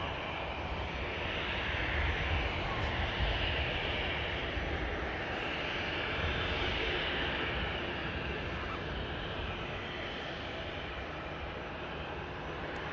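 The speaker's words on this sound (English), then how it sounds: "EasyJet heading out to Amsterdam with the Logan Air passing behind." An EasyJet airliner departs Manchester Airport, its engines a distant, steady whooshing drone that stays fairly even throughout, with no talking.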